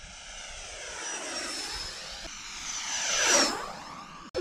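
A radio-controlled XFly model airplane flies a downwind pass, its thin electric motor whine rising and falling in pitch as it sweeps past, loudest as it banks close overhead before fading, with a brief gust at the end.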